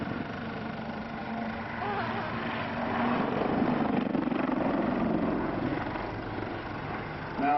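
A Blue Eagles Lynx helicopter performs a backflip at the Waddington airshow, its rotor and engine drone a steady, loud roar that swells slightly mid-maneuver, heard from a distance outdoors.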